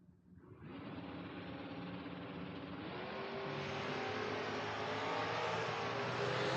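Drag race between a Camaro and a Mustang, with the cars' engines roaring up from quiet into a loud, sustained rising drone that grows louder to the end.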